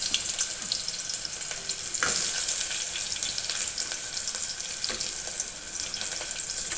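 Onions dropped into two spoons of hot oil in a pressure cooker on a stove sizzle and crackle steadily, with a sharper burst partway through; no one speaks.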